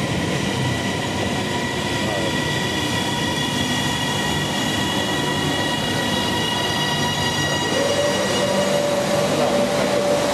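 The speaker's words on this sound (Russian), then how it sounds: "Наша электричка." Electric commuter train in Bangkok rolls past steadily and loud, with rumbling wheels, rattling carriages and a sustained high-pitched squeal from the rails, with no one speaking.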